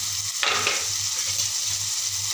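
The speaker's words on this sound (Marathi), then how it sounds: "याला छान असं मस्त मिक्स करते" Spices sizzle and frying in a pan as turmeric, coriander powder, red chilli powder and salt are mixed for egg bhurji, a steady close fry with a scraping stir near the start.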